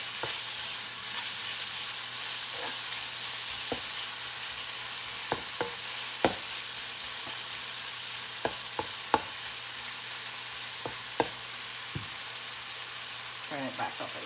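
Brussels sprouts frying in a pan, a steady bright hiss of hot oil running throughout, punctuated by scattered sharp pops and a few scraping stirs, nearby and with no voices.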